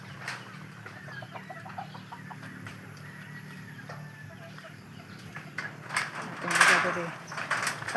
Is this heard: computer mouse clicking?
no